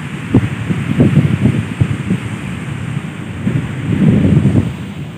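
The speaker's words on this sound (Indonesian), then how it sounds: "Sekarang ini aku sedang berada di sebuah pantai guys." Waves and wind at Pantai Baru, a beach in Bantul near Yogyakarta: steady wind buffets the microphone while low rumbling surf rolls and crashes in uneven surges.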